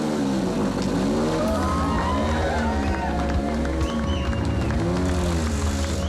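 A water-damaged Ford Fiesta rally car engine fires up and revs loudly at close range, its pitch swelling and dropping in repeated uneven bursts over a constant low rumble.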